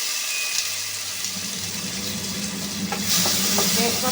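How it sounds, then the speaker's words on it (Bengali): Tomato and shrimp go into hot oil in a pan with bay leaves already frying: a broad continuous sizzle, loud and close, with a few clicking stirs toward the end, no talking. "টমেটোটা দিয়ে দিচ্ছি, চিংড়িটা দিই।"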